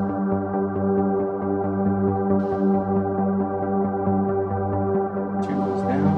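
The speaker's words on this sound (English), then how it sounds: "You can really hear the shimmer." A synthesizer pad with shimmer reverb sustains a thick, steady chord that washes on without a break. Faint airy flickers appear high above it, loud and unaccompanied by voices.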